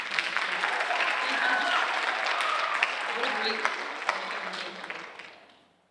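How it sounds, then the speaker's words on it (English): Audience at a State of the District evening presentation giving a round of applause, a dense, sustained burst of clapping that fades out at the end, with a brief voice speaking over it. "All right, just one more round of applause for Dr."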